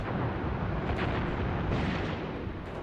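Artillery and gunfire rumble without pause in Graviteam Tactics: Mius Front during a heavy assault, a dense low roar of distant blasts and shots with a few louder bursts standing out.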